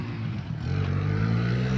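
A quad ATV with a worn, loud exhaust revs up, its raspy engine note rising and thickening into a steady close drone.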